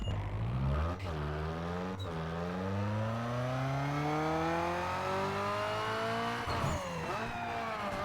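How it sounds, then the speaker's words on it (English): Acura RSX 2.0L inline-four revving on a dyno in Need For Speed Underground 2, a loud continuous engine note climbing steadily in pitch over several seconds through gear-like steps, then dropping off near the end. "we're gonna do a dyno so I can show you guys just how much power this car has"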